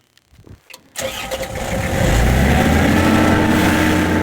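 Air compressor for dry ice blasting an arched brick ceiling: a few quiet clicks, then the motor kicks on abruptly and builds to a steady, loud mechanical drone.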